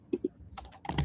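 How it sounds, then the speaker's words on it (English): Someone types on a computer keyboard while coding, with two separate key taps followed by a quick run of close, crisp keystrokes, and no talking. "I'm typing import list"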